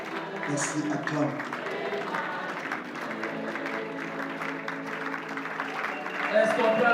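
A church congregation at a Congolese worship service cheers and applauds, steady clapping and shouts running under music and a voice throughout.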